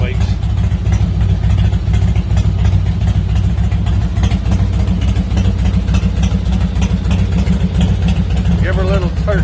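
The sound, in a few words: Heritage Softail motorcycle engine running at start-up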